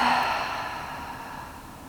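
A slow, soft exhale through the nose during a guided yoga session, a single breathy airflow that fades gradually over about two seconds, close and quiet with no talking.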